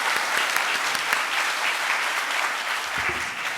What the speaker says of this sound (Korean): 지금까지 좋은 강연 해주신 이태규 국회의원님께 다시 한번 큰 박수 부탁드립니다.